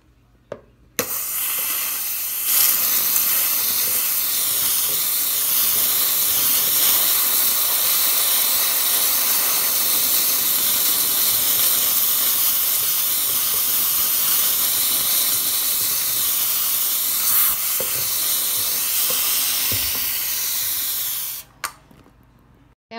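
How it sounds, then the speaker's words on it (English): A MOSCHE handheld pressurized steam cleaner lets out a strong, continuous hiss of steam, close and loud, starting after a short click and running steadily for about twenty seconds before cutting off. "I'm going to show you my little steamer. Definitely powerful."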